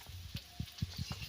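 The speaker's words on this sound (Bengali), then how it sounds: "আলু ভাজছে।" Potatoes frying in a pan in a village kitchen, with a faint, steady sizzle and soft repeated low knocks of stirring, heard quietly and without talk.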